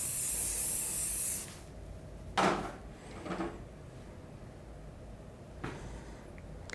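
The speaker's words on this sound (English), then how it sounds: "Just using a bit of hairspray." Hairspray is sprayed onto styled hair in one loud, steady aerosol hiss lasting about a second and a half. It is followed by quieter handling taps and rustles.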